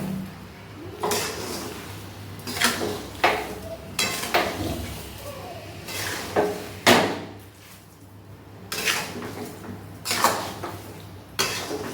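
Mango pickle stirred in a pan over a medium flame, with repeated clanks and scrapes of a utensil against the pan at an uneven rhythm, close up, with quiet gaps between strokes.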